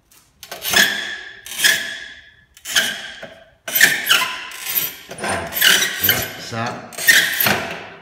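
A manual tile cutter scores a ceramic tile badly, making the wrong cutting noise: about eight harsh, rasping scrape strokes in quick uneven succession, close and loud.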